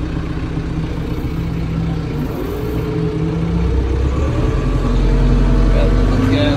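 A Branson 5520c tractor's engine runs steadily with a low continuous rumble that rises slightly as it gets a bit of throttle, close and loud, with someone talking over it.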